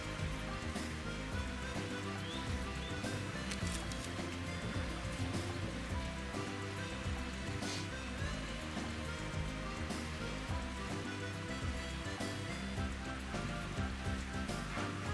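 Steady rain falls on a golf course, a soft, even hiss of drops that stays constant and fairly faint throughout, with no talking.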